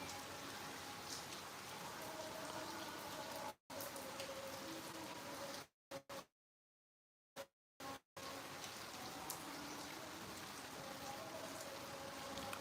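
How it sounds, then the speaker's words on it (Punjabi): Steady rain falls in Sangrur, Punjab, a dense even hiss of drops on surfaces that fills the scene, broken by a few brief dropouts. "ਉਰੇ ਸੰਗਰੂਰ ਦੇ ਵਿੱਚ بارش ਹੋ ਰਹੀ ਹੈ"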